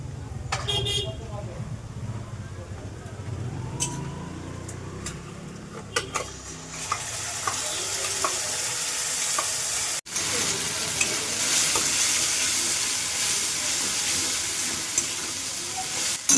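A spice paste of onion and tomato fries in a pan for a jumbo soya chunk curry, giving a steady, close sizzle with scraping stirs and a few sharp clinks against the pan.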